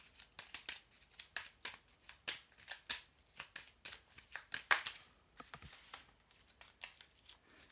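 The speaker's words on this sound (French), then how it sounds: "Je vais remettre des cartes encore là pour vous les Sagittaires." Tarot cards being shuffled and laid out, a quick series of soft, close riffling and slapping bursts that repeat steadily at low volume.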